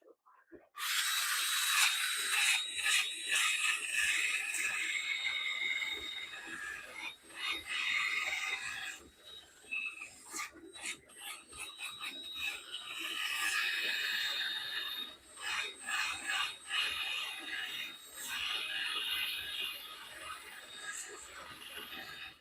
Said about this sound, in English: I know sanding's the most boring part.